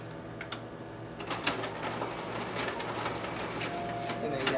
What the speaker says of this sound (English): now we'll go ahead and test out the document meter, as well as the stapling and hole punching features on our finisher